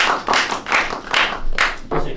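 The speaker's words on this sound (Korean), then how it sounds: "박수." A small group claps in a brief round of applause indoors, loud and close, the claps coming in uneven bursts.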